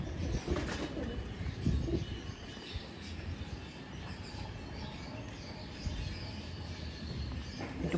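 A black female pigeon coos softly in a loft, low rounded calls repeating under a steady background hiss, with occasional faint rustles of wings.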